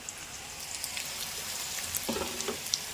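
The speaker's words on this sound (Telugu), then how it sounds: "ఇదిగోండి ఉల్లిపాయ ముక్కలు ఏగుతున్నాయి" Onion pieces fry in a pan with a steady, soft, rain-like sizzle and scattered crackles. Near the end a spoon stirs once or twice with a light scrape.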